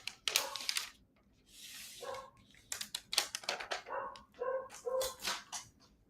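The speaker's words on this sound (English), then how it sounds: "Listen to my dogs bark." Several dogs bark in bursts at home, sharp yips and barks coming in irregular clusters with short quiet gaps, fairly close and moderately loud.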